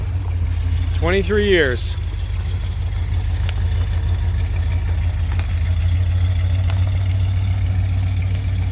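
1978 Plymouth Trail Duster engine idling with a steady low rumble throughout, close and constant, while someone speaks briefly near the start.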